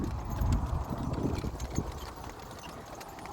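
A horse named Missy trots steadily on a road while pulling a buggy, her hooves clip-clopping in a continuous rhythm up close, with some road rumble and no talking.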